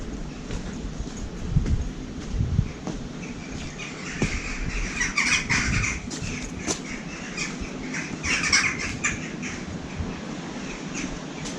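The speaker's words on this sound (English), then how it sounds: "Just birds." Birds squawk outdoors near a huge castle, a few harsh, scattered calls rising over a steady rumbling background, moderately distant.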